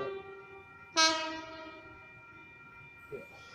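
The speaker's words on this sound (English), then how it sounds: "we should have an Oscar arriving into platform number one here at Wondabyne, bound for Central" An Oscar commuter train approaching Wondabyne station platform sounds a sustained horn, with a sharp louder blast partway through that fades slowly, over faint rail rumble.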